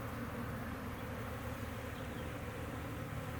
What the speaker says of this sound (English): They are not happy bees.